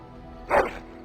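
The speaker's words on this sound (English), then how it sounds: "Happy bark." Dog in the video game Dragon Age Origins giving a single short, bright bark, close and fairly loud over a quiet background.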